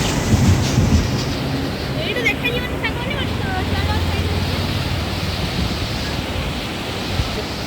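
A river roars loudly with a constant broad rush of water, close and steady, while a person speaks over it.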